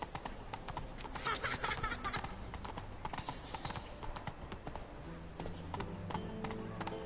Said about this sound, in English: I'm walking my horse through the city.